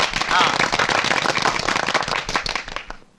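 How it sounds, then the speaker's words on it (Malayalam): An audience applauds at a studio opening, with a dense, crackling wash of clapping that holds steady before fading out at the end, with speech faintly mixed in. "എല്ലാവരും ഒന്ന് കൈയടിച്ച്"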